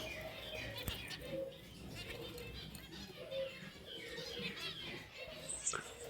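Zebra finches in a breeding aviary give faint, short nasal calls and soft chirps, with occasional wing flutters against a quiet room background while someone talks over them.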